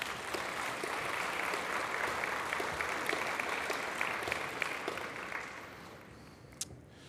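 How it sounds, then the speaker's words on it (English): An audience at a Port of Melbourne vessel arrival event for BYD's DENZA cars gives a sustained round of applause, a dense, even patter of many hands heard from some distance, fading slightly near the end. "And I think you should give them a round of applause."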